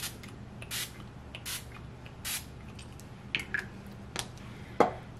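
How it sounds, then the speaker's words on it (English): Several short, soft hissing bursts of a setting spray bottle, spaced apart in a quiet room, followed by a couple of faint clicks. "I'm just gonna set with the All Nighter setting spray."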